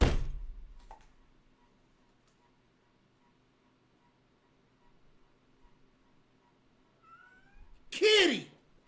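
A cat lets out a loud, drawn-out meow near the end of a mostly quiet stretch, after an opening thump and some faint background noise; a person shouts nearby.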